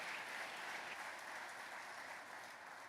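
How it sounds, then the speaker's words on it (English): Audience applause at a Tesla event, a dense, even wash of clapping from a large crowd that holds steady and fades slightly toward the end. "A huge round of applause"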